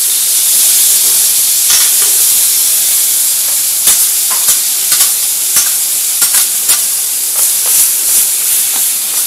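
Chorizo frying in a hot pan gives a steady, moderately loud sizzle and hiss, broken by scattered sharp crackles and pops, with no voices.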